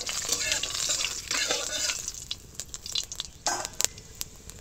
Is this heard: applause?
no